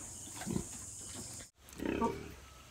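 A sow that has just given birth gives two low grunts, about a second apart, fairly faint against a quiet background.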